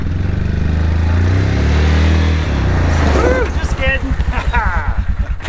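Toyota Tacoma Access Cab engine idling and crawling off-road in four-wheel drive, a steady low rumble under a voice that talks over the second half.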